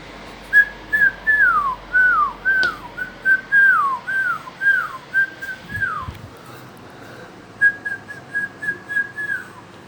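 A pet bird whistles its call, a series of clear, descending notes, repeated in quick bursts with short pauses between them, fairly close.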